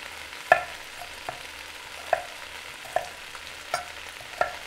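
Smoked sausage sizzles as it fries in a pot while a utensil stirs it, with quiet frying and a series of sharp clinks and scrapes at a steady, unhurried pace, close by, with no talking.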